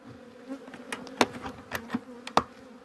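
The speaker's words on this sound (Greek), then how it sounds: "Εδώ έχει πολύ μέλισσα." Honeybees swarm around an opened hive during a pine honey harvest, a dense continuous buzzing close to the microphone with sharp louder passes as individual bees fly past.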